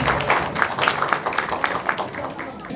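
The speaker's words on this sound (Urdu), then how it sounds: "تالیوں سے ان کا استقبال کیجیے." An audience at an Urdu literary society's inaugural ceremony in South Africa bursts into applause welcoming a speaker, a close, steady patter of many hands clapping with slight swells.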